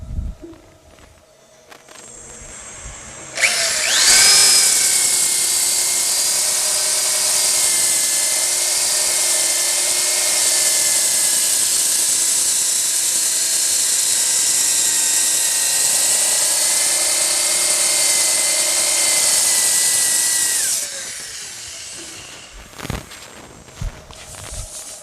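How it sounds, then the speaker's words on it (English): A power sander with 80 grit working a wooden disc spinning on a lathe: a loud, steady high-pitched whine that starts abruptly, holds for about seventeen seconds with slight pitch wavers, then cuts off, followed by faint handling clicks. "Okay, I've sanded all the way through with my 80 grit now."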